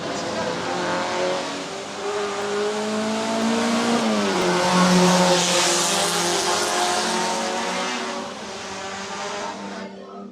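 At qualifying for the JRDC Carnival of Speed, a race car screams down the straightaway, its engine note climbing as it nears and dropping in pitch as it roars past and fades into the distance.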